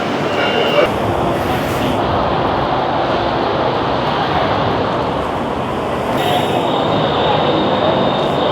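A skytrain pulls into Siam station in Bangkok, a loud continuous rumble and hiss of the train filling the platform, with crowd noise around it and brief high squeals near the start and end.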